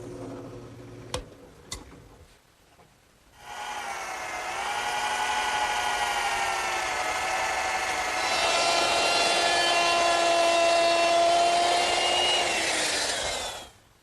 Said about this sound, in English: So I'm going to have to drill a couple pilot holes.